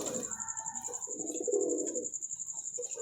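Domestic pigeons in a pigeon club loft give soft, low, rolling coos in a few phrases, close by, over a steady high-pitched background whine.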